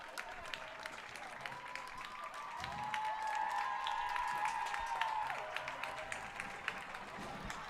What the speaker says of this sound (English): Fans are clapping because they know the end is inevitable